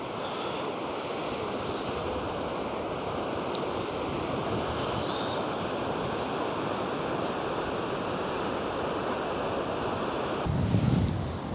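Gullfoss waterfall in Iceland roars as a steady, broad wash of rushing water heard close by under gloomy skies, continuous and loud with a gust of wind buffeting the microphone near the end.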